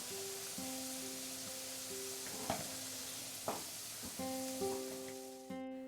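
Potato pieces being lifted out of hot frying oil in a kadai while making Bengali fish curry, a soft, faint sizzle with a few distinct clinks and scrapes from a slotted spoon, steady tonal hum running underneath.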